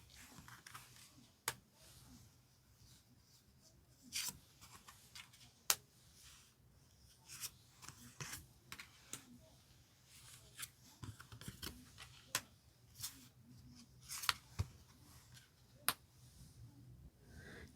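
Tarot cards snapped, shuffled and laid down one by one during a reading, a string of sharp light clicks and flicks at an uneven pace over a quiet background, with no talking.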